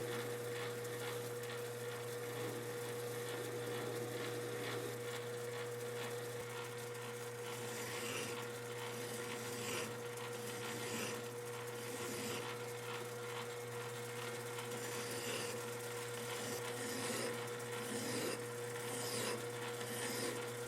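Hand filing of a stainless steel shower door knob: a steady, continuous rasping scrape repeating in even strokes throughout, close and fairly loud over a constant low machine hum.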